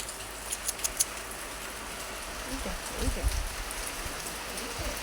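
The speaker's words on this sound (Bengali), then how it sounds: "জোরে বৃষ্টি এসে গেছে" Heavy rain patters steadily on a surface, with a few scattered louder taps and faint movement in the background.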